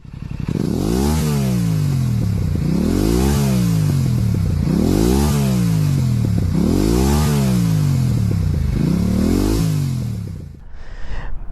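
A Yamaha R7 sport motorcycle engine revs hard five times in a steady rhythm, each rise and fall loud and close, then cuts back to idle at the end.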